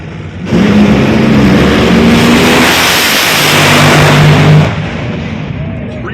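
NHRA drag racing car at a championship event in Richmond, Virginia, roaring loudly down the track for about four seconds with a wide, sustained engine blast that cuts off abruptly, set against crowd and track noise.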